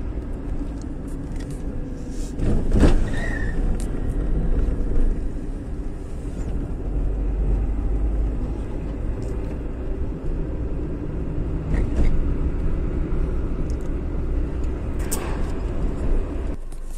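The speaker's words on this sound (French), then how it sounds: "Je vais mettre, hop, la troisième. J'accélère un petit peu, légèrement." A car engine hums in third gear under light, gentle acceleration during a driving lesson, a steady close rumble holding through the whole stretch with a few faint clicks and knocks.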